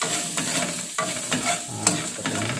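Sliced red tomato being stirred in a frying pan, with a steady sizzle beneath repeated scraping strokes of the spoon at close range.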